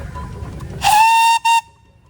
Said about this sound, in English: We have a whistle, Matt.